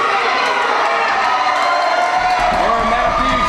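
Crowd cheering in an online wrestling video game, a steady roar of voices and shouts held at a loud level throughout, with brief whoops rising near the end.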